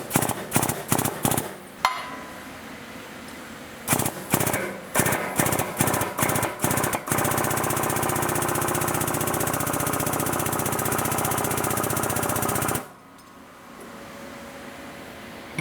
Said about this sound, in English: we're going to just use the hydraulic press. We'll push this broach through and come back